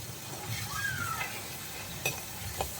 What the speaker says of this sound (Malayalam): അത് നന്നായിട്ടൊന്ന് പച്ചമണം മാറുന്നത് വരെ ഒന്ന് വഴറ്റിയെടുക്കാം.